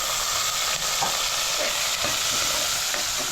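Ginger, red onion and tomato cook in a pot for native chicken tinola, making a loud, unbroken hiss of sizzling with faint stirring movements and no talk.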